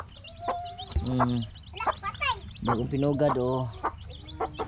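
Chickens cluck and squawk in short bursts nearby, with a person speaking briefly among them.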